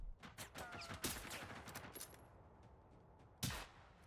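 Fusillades of gunfire in Generation Zero, a co-op video game, rattle in rapid volleys that fade off, then a single sharp, louder shot cracks near the end.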